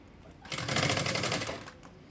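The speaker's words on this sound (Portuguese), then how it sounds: "E aí, começa a costurar aqui, ó." A sewing machine stitches a school backpack in a short, close burst of rapid needle strokes that swells up, holds for about a second and trails off.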